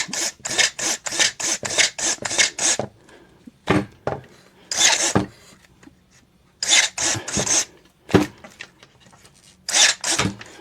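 Cordless electric pruning shears chew through a branch about one inch thick in a series of short rasping bursts. Quick repeated strokes at first give way to slower, irregular cuts with pauses between them, all loud and close.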